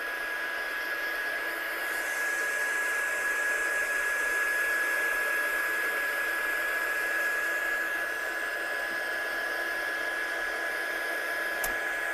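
A heat gun blows steadily on masking tape over watercolour card, a continuous loud, close airy roar with a faint whine that holds unbroken from start to finish, with no voices.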